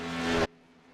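A vintage stock car from a Grand National Series race roars loudly on the track near pit exit, its engine note holding for about half a second before cutting off sharply into a quiet background.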